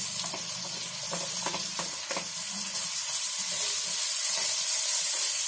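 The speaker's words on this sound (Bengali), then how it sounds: "কুমড়োগুলো একটু ভেজে নিচ্ছি" Pumpkin pieces fry in hot oil in a pan, giving a steady close sizzle with a few stirring scrapes early on; the frying hiss grows slightly louder and denser toward the end, with no voices.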